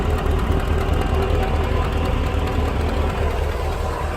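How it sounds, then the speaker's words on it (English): A 2002 2500HD truck engine idles loud and close with an exhaust leak, a steady rumble carrying a rapid ticking pulse throughout, with no voices. "You can hear there's an exhaust leak up here."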